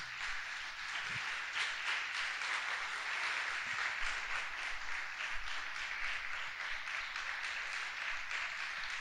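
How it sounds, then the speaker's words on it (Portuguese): A church congregation applauds during a sermon, a soft, distant, continuous wash of clapping from many hands at low level, steady throughout. "aplauda ao Senhor Jesus por isso."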